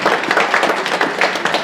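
An audience at a panel discussion applauds, giving steady dense clapping throughout a brief stretch with no speech over it.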